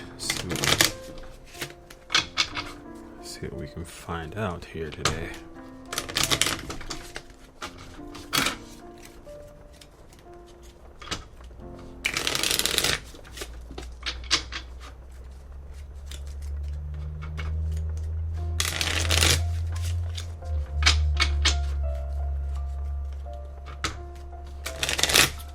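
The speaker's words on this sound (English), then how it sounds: "let me shuffle this deck" Cards are riffled and shuffled in repeated bursts of crisp flapping, with a voice speaking briefly and a low hum building toward the end.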